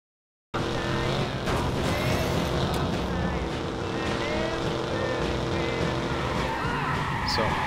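An overly fast car drives in the Watch Dogs video game, its engine roaring continuously and loudly with a hint of tire squeal throughout.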